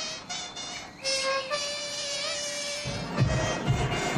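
A mosquito's whining buzz from a French-aired TV commercial, an award winner at the Cannes advertising festival, hovers steadily for several seconds over a busy, music-like background before lower rumbling sounds take over.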